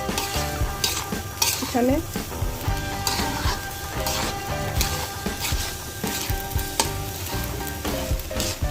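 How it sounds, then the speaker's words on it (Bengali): Rice sizzles as it fries in a pan for bouya bhat, while a metal spoon stirs and scrapes it in repeated, uneven strokes. A voice speaks briefly under the clatter. "চালটা যখন ভাজা হয়ে যাবে তখন এটা নাড়াচাড়া দিলে চালটা একবার পুরো পাতলা হবে"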